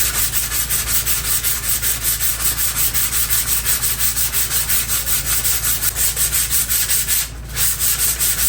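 Steady hand sanding of body filler on a salvaged, crash-damaged Kawasaki Ninja ZX-6R motorcycle fuel tank, a continuous close rhythmic rasp of rapid strokes with a brief pause near the end, no talking.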